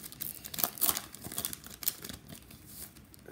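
Foil wrapper of an Upper Deck Artifacts hockey card pack crinkling and tearing as it is opened, in quick close bursts of crackle with short pauses, fairly soft and with no talking.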